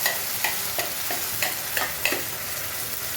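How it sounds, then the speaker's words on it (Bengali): Bottle gourd peel paste hits fried onions in a pan and sizzles in a steady close hiss, with a few rhythmic scraping stirs; no one talks. "এবার আমি এখানে এই লাউয়ের খোসা পেস্টটা আমি দিয়ে দিলাম"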